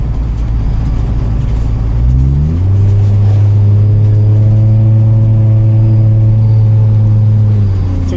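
A 2007 Ford Edge SEL engine with its muffler deleted idles with a low rumble, then revs up after about two seconds into a loud, steady drone with a strong rising tone that holds for several seconds.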